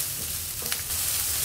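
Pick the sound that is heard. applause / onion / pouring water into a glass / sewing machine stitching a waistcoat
onion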